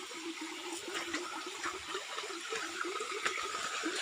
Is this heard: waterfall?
yes